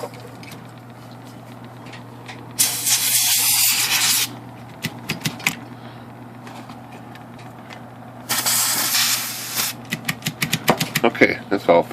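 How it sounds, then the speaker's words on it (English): A can of compressed air blows two long hissing bursts across an IBM Selectric typewriter during cleaning, each lasting over a second, with light clicks and handling noise between them. "I'm going to use a can of air and blow the excess"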